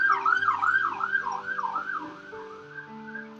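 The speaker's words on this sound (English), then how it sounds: "Another siren. It's been happening pretty frequently on my street." An emergency vehicle siren passes along a residential street, wailing in a rising and falling sweep that is clear at first, then gradually fades and lowers in pitch as it moves away.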